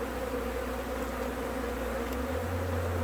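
Honey bees hum steadily and close during a July hive inspection with honey-filled boxes, a continuous low drone with no voices.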